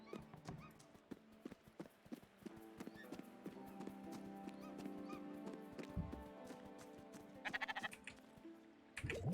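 Sheep in the video game Spiritfarer bleat several times over soft clip-clopping steps and light game music, with the calls fairly close and moderately quiet and no talk.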